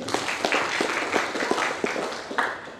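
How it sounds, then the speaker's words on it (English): An audience at an evening event in a Sheraton hotel applauds with a steady wash of clapping, individual claps popping out near the front. "so let's give them a round of applause."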